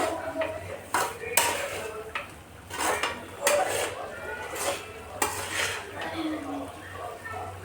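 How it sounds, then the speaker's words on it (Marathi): A spoon scrapes and clatters around a hot pan of semolina and gram flour in irregular strokes, with sharp metallic knocks and a faint sizzle beneath. "याला छान रव्याला बेसनात एकजीव करायचं, मिक्स करायचं"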